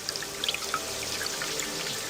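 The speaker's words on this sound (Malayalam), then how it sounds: "മുഖത്ത് വെള്ളം തളിക്കലേ രക്ഷയുള്ളൂ." Water is sprinkled onto a sleeping person's face in a skit, making a light splashy patter of scattered drops over a soft hiss, brief and fairly quiet, with no talking.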